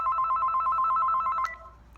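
A phone rings with a steady, rapidly pulsing electronic tone for an incoming call, loud and close, then cuts off abruptly and leaves only a faint room tail.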